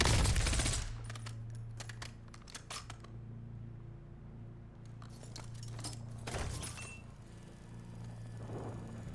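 Reloading a gun in a battle royale shooter game: a burst of gunfire opens, then short metallic clicks and clacks of a magazine change, with more clicks later over a low, steady game hum.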